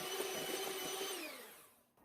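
An electric mixer beating cake batter for a three-layer magic cake, a steady close whirring hum that winds down and falls quiet at the end.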